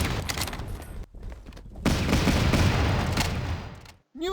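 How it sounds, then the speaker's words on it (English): Bursts of gunfire aimed at a light machine gun in the wartime strategy game Battle Academy 2, sounding as dense, loud volleys broken by brief gaps, with a sharp swishing effect near the end. "Everyone's taking shots at my LMG."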